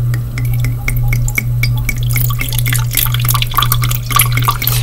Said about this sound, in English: to fill a very big basin for tomorrow night